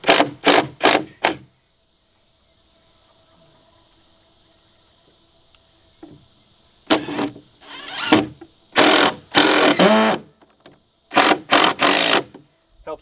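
Power driver with a Phillips head tip driving screws while building a goat pen, several short loud whirring bursts separated by pauses, the middle stretch nearly silent.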